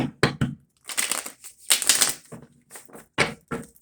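Tarot cards being shuffled in a series of brisk riffling and tapping bursts, close up, with short pauses between them and no talking.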